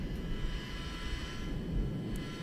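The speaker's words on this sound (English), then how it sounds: "you'll see that the heat blare coming from the exhaust, indicating that the APU is now starting." The auxiliary power unit of a Boeing 747-200 airliner starts up in the X-Plane 12 flight simulator, giving a steady low rumble with a faint whine layered on top and no speech.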